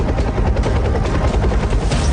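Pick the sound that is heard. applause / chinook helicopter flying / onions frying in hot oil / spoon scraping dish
chinook helicopter flying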